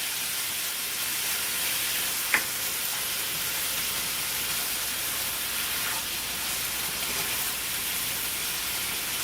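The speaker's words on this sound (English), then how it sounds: "I got 1 pound of ground beef browning up" Ground beef browns in a pan with a steady, broadband sizzle and hiss, a single sharp clink near the start, with no talking.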